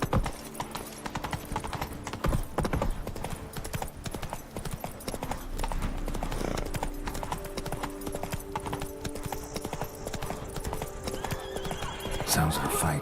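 Galloping horse in The Witcher 3, with steady clip-clop hoofbeats and a whinny over a busy backdrop of game music and ambience, the hooves loud and continuous for the whole stretch.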